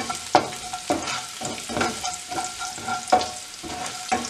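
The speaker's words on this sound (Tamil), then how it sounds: "உள்ளி பொரியட்டும்." Garlic frying in hot oil in a pan while cooking okra milk curry, a busy crackling sizzle broken by rhythmic spatula scrapes roughly every half second, close and clear with no speech.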